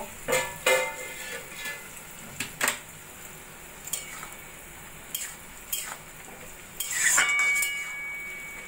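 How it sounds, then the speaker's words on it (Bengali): A lid lifted off a pot of red amaranth greens and taro cooking on low heat, a few sharp metallic clanks and clinks standing out over a faint simmer, with a longer clattering rustle near the end. "এবার আমি ঢাকাটা তুলে দেখে নেব"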